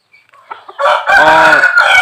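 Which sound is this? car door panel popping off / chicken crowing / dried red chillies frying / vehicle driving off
chicken crowing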